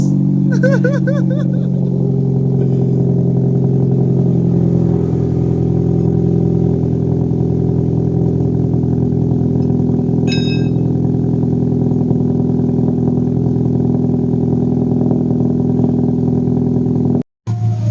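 A Toyota Vios with an aftermarket Bidot exhaust, loud and close, revving briefly at the start then settling into a steady deep drone for many seconds before cutting off abruptly near the end.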